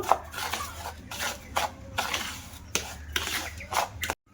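A spoon scrapes and stirs semolina with sugar and sour yogurt in a bowl, a run of rhythmic clinking and rubbing strokes close by, about five or six passes, ending abruptly.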